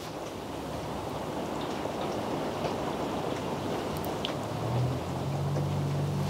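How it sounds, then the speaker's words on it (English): A sudden downpour heard from indoors, a soft, steady wash of rain with scattered drips, fairly faint and continuous, joined near the end by a low hum. "Can you guys hear that rain? That came on so suddenly."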